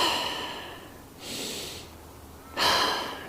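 Deep yoga breaths taken slowly and deliberately, with two broad airy exhales a couple of seconds apart, fairly close and soft, and no talking over them.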